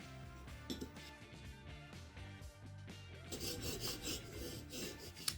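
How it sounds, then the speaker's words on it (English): A damaged woodworking chisel rasps steadily against a sharpening stone while its imperfections are ground out, a continuous close scraping that grows louder and brighter toward the end. "we have ground out pretty much all of the imperfections"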